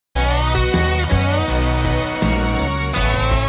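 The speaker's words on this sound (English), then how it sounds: "I'll then add some slide guitar" Slide guitar layered into a full multitrack song arrangement, sustained gliding tones over steady instrumental backing, loud and continuous throughout.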